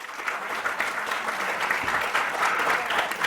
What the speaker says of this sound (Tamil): அவங்களுக்கு நல்லா கரகோஷம் கொடுங்க.